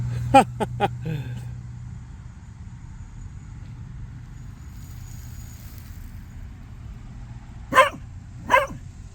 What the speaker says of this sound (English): That's why he's barking at me, because he's on the other side of the fence.